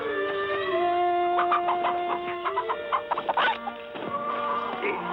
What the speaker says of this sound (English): I guess chicken would be fine.